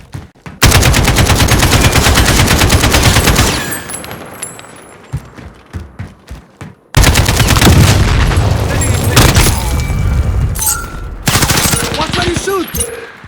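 Automatic rifle fire rattles in long, loud bursts from a Call of Duty: Modern Warfare multiplayer match at a train station map, with a lull of scattered shots in the middle before heavy sustained firing resumes.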